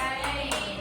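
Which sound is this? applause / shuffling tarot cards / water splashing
applause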